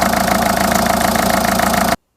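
A Peugeot 207 1.6 HDI diesel engine idles steadily up close, a loud rhythmic clattering hum with regular pulses, cutting off abruptly near the end.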